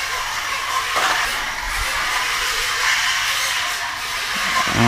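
The small motors of an Eachine E015 quad hover toy, running on a hard floor, give a steady, close, broadband whirring hiss that swells slightly near the end.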